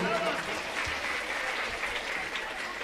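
Loud, dense applause from a village crowd at a Hindu religious gathering, continuous clapping close by with some voices mixed in underneath.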